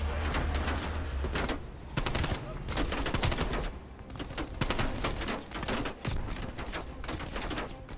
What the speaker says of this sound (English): I'm just getting shot everywhere.